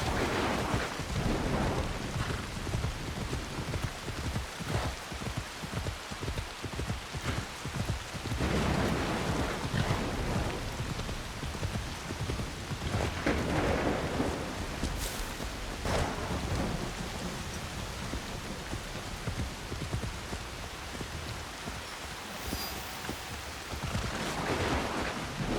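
Heavy rain and rolling thunder in a thunderstorm within the video game Assassin's Creed Shadows, a dense continuous downpour with deep rumbles swelling throughout, no talk.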